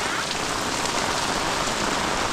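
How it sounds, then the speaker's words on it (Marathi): Heavy monsoon rain in the Konkan countryside pouring down steadily, a dense close wash of drumming on surfaces with no break, with no talk. "पाऊस किती लागतोय तो दाखवते ना"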